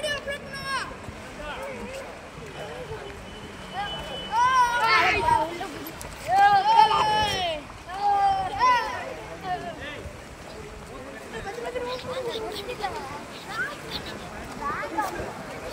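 Children bathing and playing in a swimming pool, with water splashing and shrieks and excited kids' voices, mixed with nearby talking over a wet outdoor ambience.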